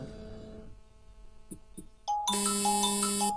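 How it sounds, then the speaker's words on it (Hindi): L9 smartwatch incoming call alert: a low hum and a couple of faint taps, then a sudden loud, sustained electronic ringtone with steady chiming tones. "अब मैं आपको दिखाता हूं कि कोई जब आपको कॉल करता है तो उसकी नोटिफिकेशन किस तरह से आती है।"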